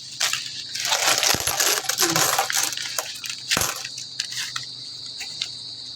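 Coins pour and clatter out of an opened coin bank, a dense, close metallic jingle with repeated bursts of clinking and rattling over several seconds.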